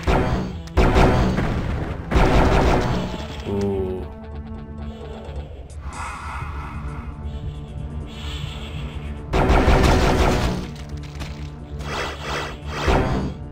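A powerful weapon in the video game Heretic fires in repeated heavy blasts with booming thuds and whooshes, spaced irregularly over a droning game background.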